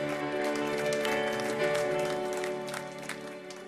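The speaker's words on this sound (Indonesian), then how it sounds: "Tepuk tangan yang dahsyat." A church congregation applauds at a worship service, giving a dense patter of many hands over sustained music with held organ-like tones, steady throughout before easing slightly near the end.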